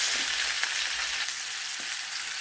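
Onions frying in a pan of fried potatoes with canned stewed meat, a steady broadband sizzle with a few soft stirring scrapes, close and continuous, with no talk.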